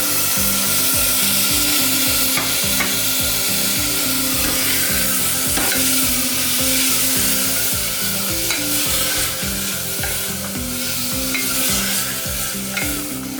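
Tomatoes go into a pan of sauteing onions for a millet breakfast dish, followed by loud, steady sizzling and the repeated rhythmic scrape of a spoon stirring against the pan.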